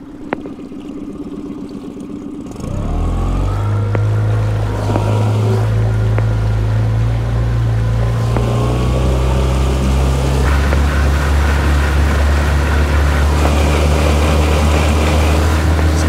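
Wright Water 12 skiff motorboat with its outboard engine roaring up as it accelerates and climbs onto plane, a steady loud drone that jumps in level after a quieter idle start and then holds, with wind and water rush.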